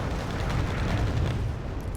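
Artillery and mortar fire hit a T-72BU tank in Wargame Red Dragon, a dense continuous rumble of overlapping explosions, loud and heavy in the low end without clear separate blasts.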